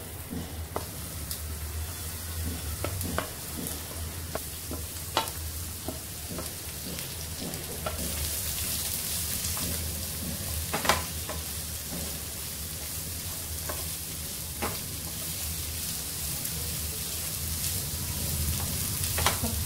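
Mixed vegetables with curry leaves frying in a pan for rava appe, a steady close sizzle broken by frequent spatula scrapes and taps, continuing unbroken with no talk.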